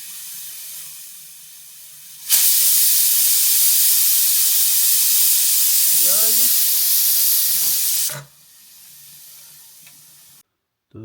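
A pressure cooker of khichdi with turmeric on a home stove releases steam in a loud, steady hiss for about six seconds, cutting off abruptly, with someone talking quietly before and after.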